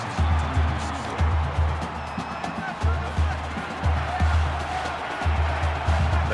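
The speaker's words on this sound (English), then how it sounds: "The crowd at this stadium, always a factor in a football game." A stadium crowd cheers at a college football game in the NCAA 14 video game, Auburn at Oklahoma, as a steady broadband roar with recurring low rhythmic thumps underneath.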